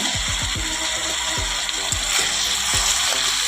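Bottle gourd, aubergine and potato curry sautés in a pan, a continuous close sizzle and bubbling hiss with a series of low thumps and scrapes from stirring.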